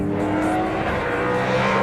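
V8 Supercar race car engine at Phillip Island in 2007, a loud, steady high-revving roar held close for about two seconds with no talk.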